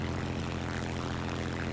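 Propeller fighter plane in War Thunder arcade battle, a steady, loud droning engine hum with dense low harmonics, continuous and unbroken with no talk over it.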